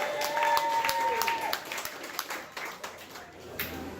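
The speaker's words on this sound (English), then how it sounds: "I want to give y'all a round of applause" Audience applause and cheering at a women's festival closing event, a dense burst of clapping with a voice calling out over it that fades down across a few seconds.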